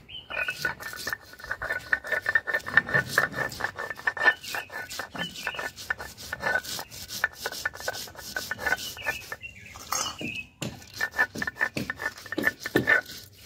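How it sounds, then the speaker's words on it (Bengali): Mustard seeds are ground on a grinding stone, making rhythmic, close scraping and rubbing strokes in quick repeated bursts, with a short pause near the end before the grinding resumes. "বেটে নেবো সর্ষেটা।"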